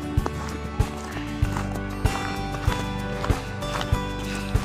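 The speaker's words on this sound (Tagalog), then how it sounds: "Yun, pabalik na naman doon yung kabayo." Hooves of a pony giving children rides in wintry Kuopio, Finland, land in a regular, evenly paced clip-clop, each strike sharp and distinct above a dense, steady background hum.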